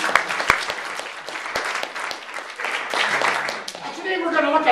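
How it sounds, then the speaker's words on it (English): Audience applause at a talk, a dense spread of handclaps holding steady for several seconds, with a voice speaking over it near the end. "Let's clap for that."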